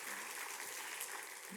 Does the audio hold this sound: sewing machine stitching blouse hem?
no